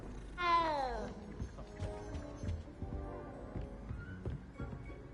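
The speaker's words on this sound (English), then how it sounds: "Cat." A cat meows once in Hogwarts Legacy, a clear rising-then-falling cry near the start, followed by game ambience, footsteps and faint voices.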